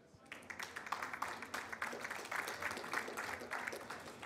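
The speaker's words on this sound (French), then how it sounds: "Merci de l'applaudir." Audience applause for a speaker at a finance conference panel in Paris, a fairly faint but sustained patter of many hands clapping from across the room.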